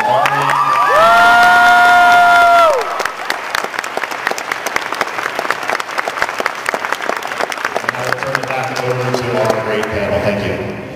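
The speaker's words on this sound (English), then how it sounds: "So I want to do a big round of applause for Miss Carly." A convention panel audience breaks into loud applause and cheering, with a sustained dense clapping wash for most of the span. A voice talks over the start, and the noise tapers off near the end.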